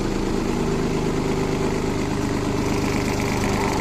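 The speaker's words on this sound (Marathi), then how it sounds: "हे बघा मित्रांनो ट्रॅक्टर चालला आहे" Tractor engine running steadily as the tractor pulls away in first gear with a trolley hitched behind, a continuous close, loud mechanical drone with no pauses.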